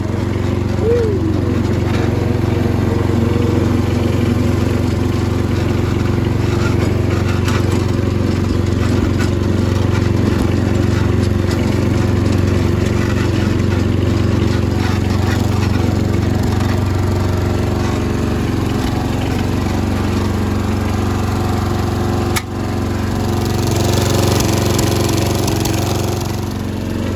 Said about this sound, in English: you hear a little bit of backfiring because obviously it isn't the exact correct carb